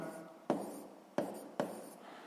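Pen or chalk strokes writing out a math solution for a sixth-grade problem, three short taps with brief scratching tails, close and quiet in an otherwise still room.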